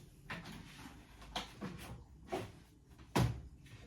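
Small plastic doors on a Philips Perfect Draft home beer machine are opened by hand, giving several soft clicks and light knocks, ending in one sharper clack, close and quiet.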